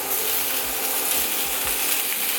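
Shiitake mushrooms and wood ear fungus being stir-fried with ginger and carrot for Buddha's delight, a continuous loud sizzle with a few low scraping strokes of a spatula, no speech.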